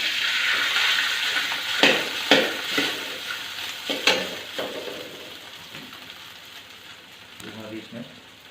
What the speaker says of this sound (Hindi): जी अभी हम इसमें चावल डाल रहे हैं।